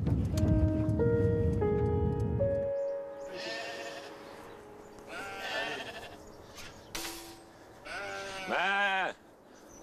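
Sheep bleat on a farm in the Bordeaux region, a few calls spread out at moderate distance, with a long loud bleat near the end, after a musical intro.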